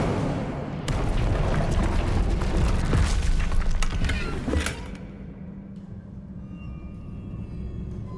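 Incendio fire spell cast in Hogwarts Legacy: a loud, sustained roaring burst of flame with crackling transients for several seconds, then fading into a quieter low rumble and ambient hum.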